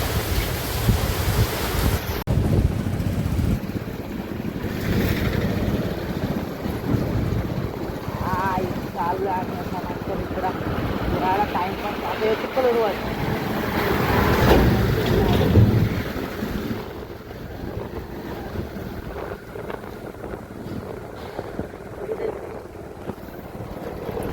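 Strong wind blowing at sea during a rainstorm, heard as loud, rough gusting and surf-like roar. Voices talk over it and the noise eases toward the end.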